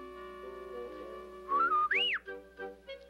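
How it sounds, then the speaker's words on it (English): A cartoon character whistles a short, bright tune with rising and swooping notes, clear and close over a quiet soundtrack. "What's he whistling at?"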